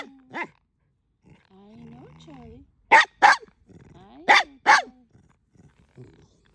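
A dog in a garden gives two pairs of sharp, loud barks with quieter growly vocal sounds between them, while a person speaks softly at the start.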